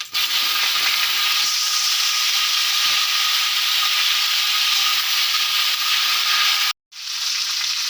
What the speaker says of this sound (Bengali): ঝোড়ন দিয়ে দিচ্ছি শুকনো লঙ্কা দু তিনটে দিয়ে দিচ্ছি